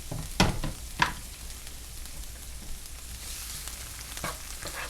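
Peppers and onions frying in a pot for a bean stew give a gentle, fairly quiet sizzle, opened by two sharp clatters of a utensil and followed by a softer stirring scrape near the end.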